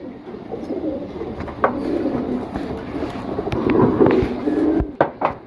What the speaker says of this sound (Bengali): এটা তো নর কবুতর দেখেন এগুলো পাগলা ডাকা ডাকে